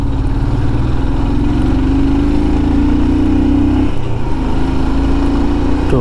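A Royal Enfield Himalayan motorcycle runs along a winding mountain road from Srinagar to Sonmarg, its single-cylinder engine droning loud and close with a steady low thump that rises in pitch, dips briefly, then settles again.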